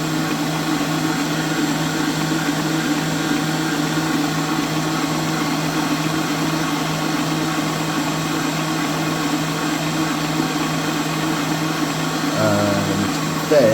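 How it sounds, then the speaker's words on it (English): Electric mixer on speed 4 whisking soft, chewy copycat Millie's cookie dough, a steady motor whir held at an even pitch for over ten seconds, with a brief shift in tone near the end. "we're going to give that a whisk. Just going to put that on number 4 till it kind of mixes"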